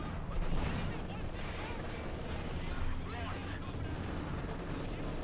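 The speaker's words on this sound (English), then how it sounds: "Another shot there from the Pack 40." A Pak 40 anti-tank gun firing during a Company of Heroes 2 battle, booming shots and rumbling explosions amid continuous battle noise, with a commentator talking over it.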